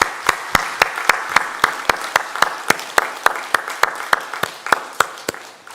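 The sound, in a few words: church congregation applauding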